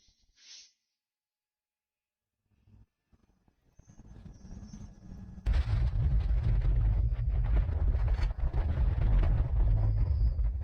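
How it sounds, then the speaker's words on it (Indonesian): Quiet at first, with a few faint noises, then a sudden massive rumbling roar of a volcano erupting in an animated series bursts in and stays loud and continuous. "Gunung ini benar-benar meledak."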